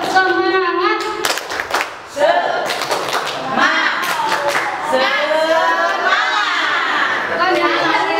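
Schoolchildren and teachers in an elementary classroom doing a rhythmic clapping chant, with sharp patterned claps and loud children's voices chanting and talking over them.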